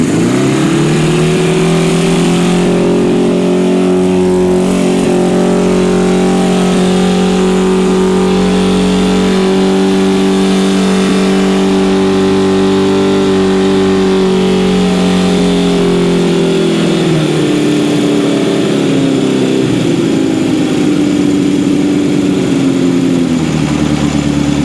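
A 1972 Honda CB750 Four, undergoing carburetor adjustment after a head replacement, idles fast and steady close by, its loud, even four-cylinder drone holding for a long stretch before dropping slightly lower near the end.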